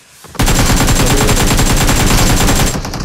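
Automatic M4 rifle fire in a shooter video game: one loud, continuous rapid burst of evenly spaced shots lasting a couple of seconds, with no talking.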